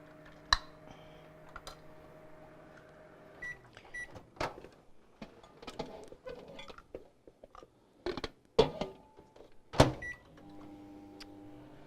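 A microwave oven softening butter in short bursts hums quietly, broken by sharp clicks and beeps of the door and buttons several times, fairly close in a quiet kitchen.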